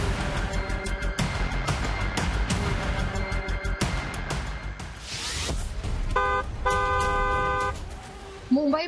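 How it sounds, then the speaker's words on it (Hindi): Car horns honk repeatedly in busy Mumbai street traffic, a mix of short toots and longer sustained blasts layered over engine rumble and background noise, with a brief pause before the honking resumes. "दूसरों को भी सावधान करने के लिए हॉर्न बजाएं"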